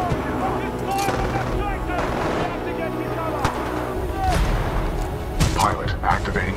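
Supporting fire in the Titanfall 2 campaign, with heavy gunfire and explosions booming continuously under a radio-style voice talking throughout, and a few sharper bangs standing out.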